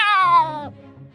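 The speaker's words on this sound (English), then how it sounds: "A cat with sharp teeth and sharp claws jumps up on the table" A single cat meows once, a clear close drawn-out cry that slides downward and fades into a low murmur.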